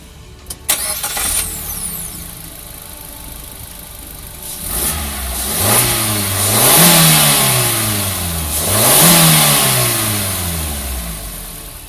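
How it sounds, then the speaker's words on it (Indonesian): A 2021 Suzuki Carry with a 1500cc K15B inline-4 petrol engine cranks and catches, settles briefly, then revs up in several rising and falling pulls, loud and close with no talking. "Kita dengerin dulu suara mesinnya"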